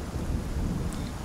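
A deep rumble of thunder rolls through heavy rain in a brief, continuous stretch during a storm in the video game Icarus.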